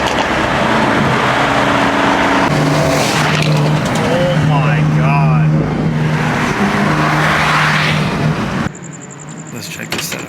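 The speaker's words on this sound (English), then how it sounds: "As you guys can hear by the sound of this car, it's just a beast." A Mercedes-AMG car engine roars loudly and continuously with rising revs and tire noise, close by, before cutting off abruptly near the end.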